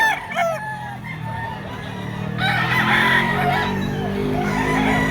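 A blue-legged Black Bonanza gamecock crows close by, with a few short clucks first and then one long, loud crow over a low background hum.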